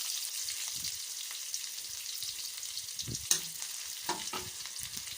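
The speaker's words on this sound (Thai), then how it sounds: "แล้วก็จะใส่ หอมแดงนะคะ ลงไปผัดให้หอม" Shallots stir-fry in hot lard in a pan for a big batch of fried rice noodles, a steady close sizzle with occasional scraping stirs and clinks, no voices.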